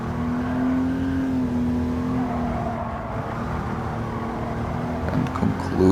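The engine of a 1966 Jaguar XJ13 in Gran Turismo 7 drones at a steady pitch with rich harmonics. Tone and load shift slightly over a few seconds, ending in a brief rise of rougher, busier sound.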